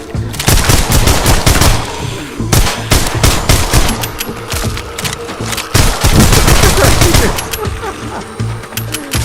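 Rapid bursts of gunfire blast through a VR zombie shooter game, loud and dense in repeated volleys with short pauses between them, while a player's voice exclaims over the shooting.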